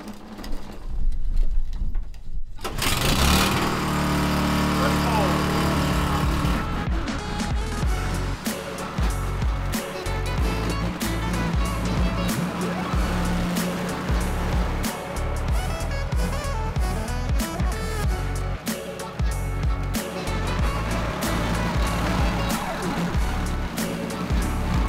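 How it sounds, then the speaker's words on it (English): A snowblower engine is pull-started and keeps running with a steady, loud mechanical drone through an Iowa January snowstorm, with bursts of clattering and scraping over the engine. "first time using the snowblower and it worked like a charm"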